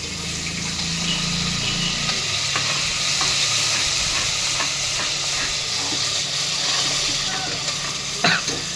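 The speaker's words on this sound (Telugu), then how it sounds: "దీంట్లోనే టమాటో ప్యూరీ వేసుకుందాం." Tomato puree sizzles loudly in a hot pan of oil after fried eggs are removed, with a steady hiss and intermittent scraping of a spoon stirring it, close and continuous for the whole stretch.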